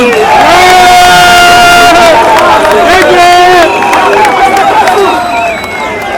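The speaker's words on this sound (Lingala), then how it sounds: "applaudissez pour vous-même" A large crowd at a UDPS political rally roars and cheers loudly, a sustained wall of shouting voices with whoops that eases slightly toward the end.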